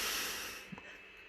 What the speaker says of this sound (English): you take a breath in through your mouth and down through your nose